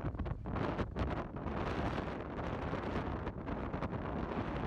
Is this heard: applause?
no